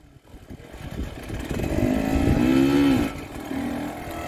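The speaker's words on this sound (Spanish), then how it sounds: "que corra la moto." A motorcycle engine revs up, its pitch climbing and holding loud before easing off, then settling to a lower idle.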